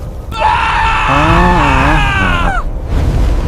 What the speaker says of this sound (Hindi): पूरी पहाड़ी में एक चीख गूंज उठी।